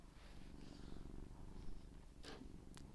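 Close, soft cat purring with a steady low rumble, quiet and continuous, with a couple of brief rustling noises near the end.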